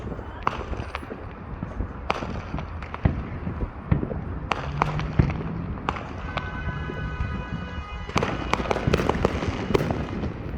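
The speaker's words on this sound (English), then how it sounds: "at least I got a little bit of fireworks for you guys to see" Fireworks for July 4th in Katy, Texas crack and pop repeatedly at a moderate distance, irregular sharp bursts scattered across the whole stretch, with crackling shells and faint background voices.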